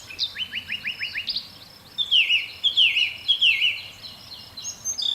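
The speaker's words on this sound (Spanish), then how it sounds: "Se dejan también oír en las mañanas, especialmente, los trinos enamorados de las aves." Birds sing in a spring morning outdoors, with rapid repeated trills and descending chirped phrases, fairly close and clear over a quiet background, with no talking.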